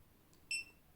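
A CP12 handheld label printer gives a single short, high electronic beep, faint against a quiet background.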